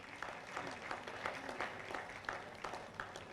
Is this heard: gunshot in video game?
no